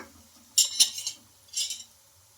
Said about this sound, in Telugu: ఇలా రెండు స్పూన్ల సహాయంతో ఇలా ఇంకొక వైపు అయితే టర్న్ చేస్తున్నా